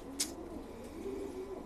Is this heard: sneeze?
no